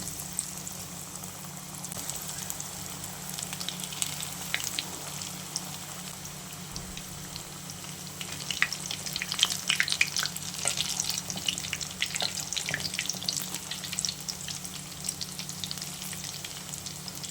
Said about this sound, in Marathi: तर ते छान असे फ्राय करून घेऊया